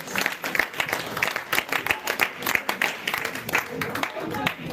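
A church congregation at a revival vigil in Paris claps in loud rhythmic bursts to acclaim Jesus, with voices mixed into the applause throughout.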